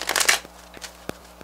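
A deck of reading cards being shuffled: a dense riffling burst at the start, then a few faint, sparse card taps and flicks in a quiet room.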